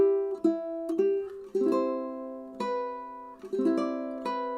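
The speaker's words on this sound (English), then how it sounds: "So you could just hit the chord once" A ukulele chord rings out with bright sustained harmonics, struck several times with pauses as it decays, played alone with no talking.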